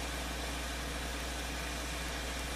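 A tractor engine idles steadily in Farming Simulator 2013, a continuous low mechanical drone with even vibration throughout and no voices over it.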